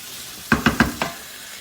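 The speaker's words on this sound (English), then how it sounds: "So you can start to see that prawn starting to cook nice and nicely there." Prawns cooking in a pan with lemon juice for chilli prawn linguine, four quick stirring or scraping strokes amid a soft steady sizzle, close and moderately loud.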